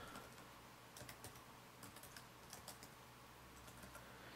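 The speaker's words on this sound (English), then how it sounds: "So I'll go on Google and type in GreenManVideos." Typing on the keyboard of a Dell Inspiron 1545 laptop: a few short clusters of light key taps, faint under a steady background hiss.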